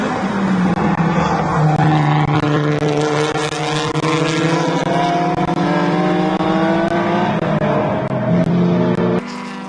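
USTCC touring race cars roaring past on track, engines loud and close with shifting pitches as several cars accelerate together in a sustained dense drone, no talk.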